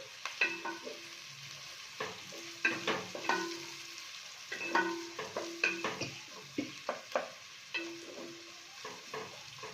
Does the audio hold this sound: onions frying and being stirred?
yes